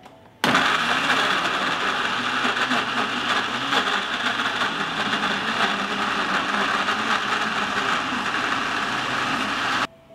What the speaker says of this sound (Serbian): I oprane i očišćene jagode stavljam u blender.